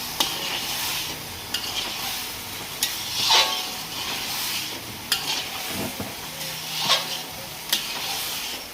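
Rice and lentils frying with ground cumin and spices in a pan, a continuous close sizzle broken by repeated sharp scrapes and clinks of the stirring spoon at irregular intervals.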